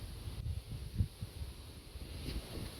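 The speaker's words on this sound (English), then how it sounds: "sorry if there's any wind noise, it's blowing like crazy out here" Gusty wind buffets the microphone outdoors in an open field, a steady low rumble swelling and dipping in bursts with no voices.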